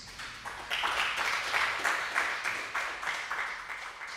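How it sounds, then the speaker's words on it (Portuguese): A church congregation claps together in praise, a fairly loud round of applause with a pulsing, rhythmic quality running for a few seconds, no voices over it. "vamos aplaudir a Jesus"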